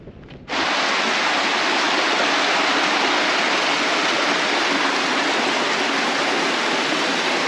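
Creek water in Surprise Canyon rushing loudly and steadily, starting abruptly after a brief quiet moment and continuing as a dense, unbroken close-up flow with no voices.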